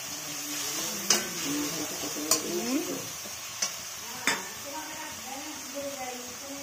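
Spice masala stirred and sautéed in a pan for egg curry, a soft sizzle under repeated sharp scrapes of a spoon against the pan, with a voice talking faintly.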